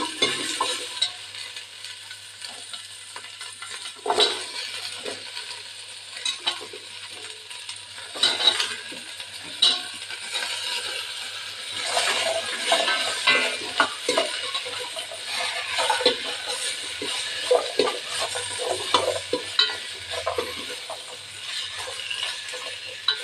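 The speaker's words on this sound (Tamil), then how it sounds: "எல்லாத்தையும் ஒன்று ஒன்றா போட்டு வதக்கணும்." Taro root, potato and other vegetables for Tirunelveli Idi Sambar are sautéed in a pan, with a continuous soft sizzle and repeated scraping, clinking stirs close by and no talking.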